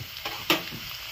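Potatoes fry in hot oil with a low sizzle, broken by a couple of quick scraping stirs, one sharper than the other, brief and close.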